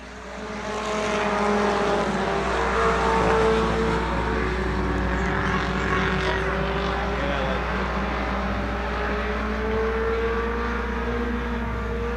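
Race cars circling the oval at Thunderbird Raceway, a sustained loud engine drone with layered whining pitches that swell in and hold steady, a low rumble underneath.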